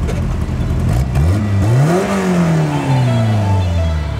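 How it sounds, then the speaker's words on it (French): A classic car's engine is revved with a quick blip of the accelerator, the pitch climbing sharply and then sliding back down to idle; loud and close, alone with no talk. "Bien un coup d'accélérateur."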